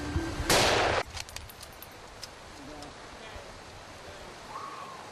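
A hunting rifle fires a single loud crack at a moose outdoors, the blast briefly swamping everything before faint rustling and distant murmurs follow.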